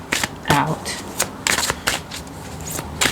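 A tarot deck being shuffled by hand in quick riffling bursts, crisp papery flutters close to the ear with short pauses between them.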